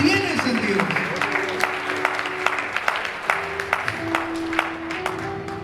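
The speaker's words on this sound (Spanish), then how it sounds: "Alguien dé un aplauso al Señor." A church congregation claps along during a Spanish-language sermon, with steady rhythmic claps layered over sustained tonal voices or music.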